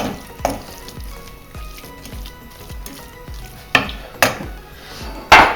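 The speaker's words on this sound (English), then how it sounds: "We'll let it sweat until the veg are soft." Chopped vegetables sweating in a pan for a ragù Bolognese, a steady close sizzle punctuated by sharp spoon scrapes and stirring knocks against the pan, louder clatters toward the end.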